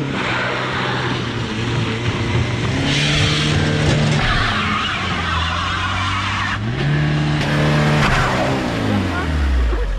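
A car brakes hard with squealing, skidding tones that glide up and down several times over a steady engine rumble, with voices talking in between.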